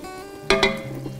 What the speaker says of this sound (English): I'm now gonna add the flour and whisk that in for a few minutes